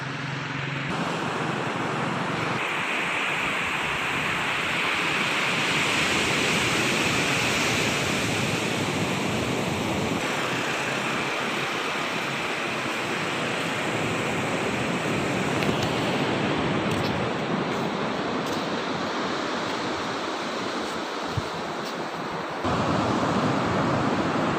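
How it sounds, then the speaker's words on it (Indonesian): Ocean surf washes steadily onto a beach shore beside an old Japanese fort on Nias island, a continuous broad roar of breaking waves with gusts of wind across the microphone, no voices. "Jadi terletak di pinggir pantai."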